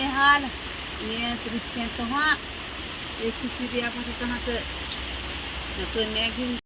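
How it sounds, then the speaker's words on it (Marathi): Heavy monsoon rain pours down steadily outdoors while bhakri and rice are being cooked, a constant hiss under continuous talking voices. "इकडे पाऊसही लागलाय बघा किती मुसळधार पाऊस लागलेला आहे आता"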